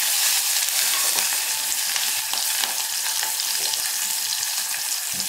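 Green chillies and curry leaves frying in hot oil, a loud, dense, continuous crackling sizzle with rapid spattering pops, heard up close with no voices.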